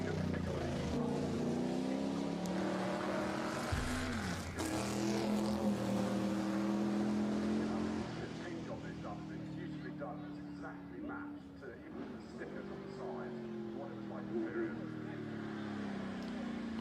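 A race car drives the Goodwood hillclimb, its engine a continuous rising and falling drone that shifts pitch through gear changes, steady and moderately loud, with commentary voices mixed in.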